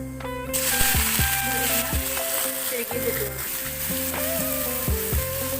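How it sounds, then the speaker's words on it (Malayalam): Mustard seeds crackle and sizzle in hot oil over a very low flame, with sharp pops scattered throughout, while tonal background music plays underneath. "എണ്ണ ചൂടായിട്ടുണ്ട്. ഒരു 1/4 സ്പൂൺ കടുക് ഇട്ട് കൊടുക്കാം."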